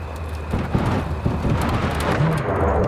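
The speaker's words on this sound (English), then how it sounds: "That is one hell of a storm!" Thunderstorm in the video game Cyberpunk 2077, with steady heavy rain and low rumbling thunder rolling underneath, fairly loud and continuous with no talking.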